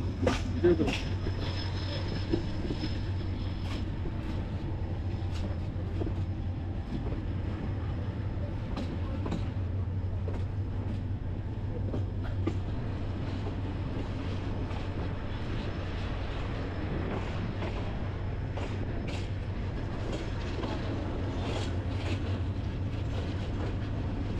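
A passenger express train running from Dhaka to Mymensingh at night rolls along steadily with a low rumbling drone and faint clattering wheels, heard from inside the carriage, with occasional voices.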